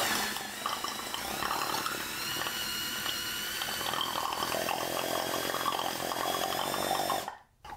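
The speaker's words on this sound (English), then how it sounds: "we're going to actuate the pump with a cordless drill" A vacuum pump driven by a cordless drill runs steadily, a loud continuous whirring mechanical drone with a gurgling, watery texture that holds for several seconds and then cuts off abruptly near the end.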